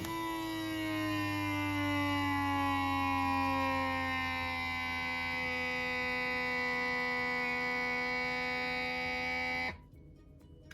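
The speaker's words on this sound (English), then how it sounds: "Today I'm going to seal it with my handheld Food Saver vacuum sealer." Steady electric motor whine with a slowly falling pitch from a handheld FoodSaver vacuum sealer drawing air from a jar, running about ten seconds before cutting off abruptly.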